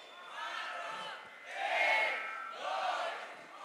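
A rap battle audience yells and cheers for MC Jones at a state final, loud crowd noise rising in two swelling bursts.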